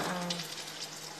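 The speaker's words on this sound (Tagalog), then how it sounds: "Ipiprito na natin po siya." Chicken pieces frying in hot cooking oil, a brief steady sizzle and crackle close by.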